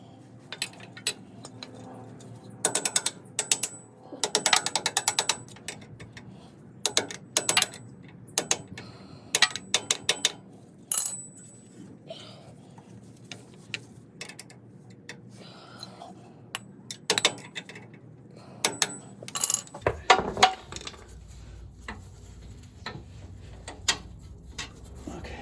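Bolts are being removed during a CV boot replacement on an Isuzu VehiCROSS, giving intermittent ratchet clicks and metallic clinks in scattered bursts, close and moderately loud, with quiet gaps between them.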